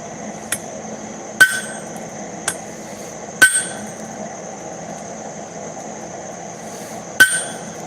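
A hammer forging metal on the horn of an anvil, with six sharp, ringing strikes spaced irregularly over a steady background hum, close and loud with a metallic ring after each blow.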